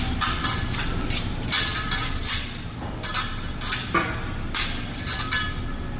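Chicken and shrimp cooking on a hibachi grill, with metal utensils clinking and tapping against the hot surface in a quick, steady string of bright, close hits.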